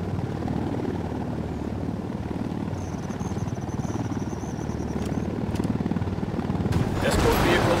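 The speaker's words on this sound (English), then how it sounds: "Helicopter inbound." A helicopter approaches in the Ghost Recon Wildlands video game, its steady rotor drone rumbling continuously amid game combat noise, with bursts of gunfire and speech near the end.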